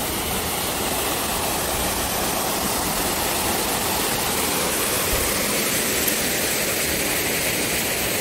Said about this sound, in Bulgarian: Има такъв водопад